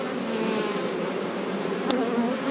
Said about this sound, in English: look at the bees working it here